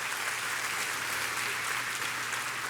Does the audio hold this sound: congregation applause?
yes